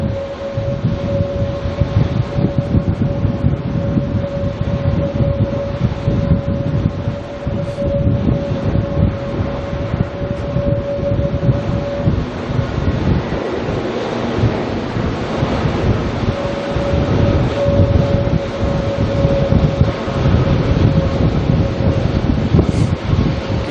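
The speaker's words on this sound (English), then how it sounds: "Our next departure heading to Napier, NZ 5029. It's another ATR." An ATR turboprop airliner departs Auckland Airport for Napier, its broad propeller roar carrying over heavy wind buffeting, with a steady tonal whine that drops out midway and then returns.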